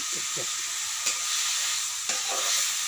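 Food fries in a pan, a close, steady sizzling hiss broken by a few brief scrapes and knocks of stirring near the start and middle.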